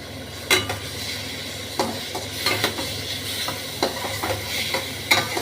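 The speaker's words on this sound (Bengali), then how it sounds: "মৌরি, জোয়ান, মৌরি, মেথি, সর্ষে আর জিরে, এটাকে আমি এখন মিডিয়াম টু লোতে নাড়ানাড়ি করছি" Spoon stirring a tempering of fennel, carom, fenugreek, mustard and cumin seeds in a pan over medium-low heat for a raw mango curry, with a soft sizzle and intermittent clinks of metal on the pan.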